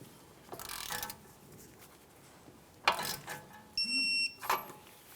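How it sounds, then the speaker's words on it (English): A torque wrench tightening the outer tie rod nut to 52 foot-pounds on a 2002-2005 Ford Explorer: scattered ratcheting clicks and metallic handling sounds, then a short, sharp click-like ping as the wrench reaches its setting, fairly close and quiet. "Now we'll torque this to 52 foot-pounds."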